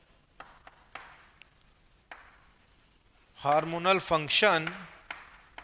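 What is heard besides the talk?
writing during a biology lecture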